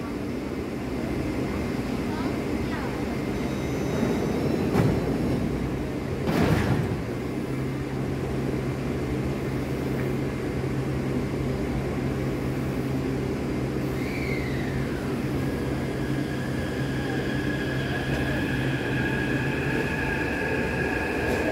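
A train moves through a railway station in Taiwan with a steady low rumble and a long sustained tone. A brief clatter and some faint, distant voices sound over the ambient hum.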